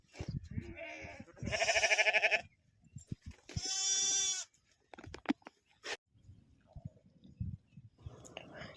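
Two loud, wavering bleats close by, separated by quiet; soft voices and rustling fill the gaps around them.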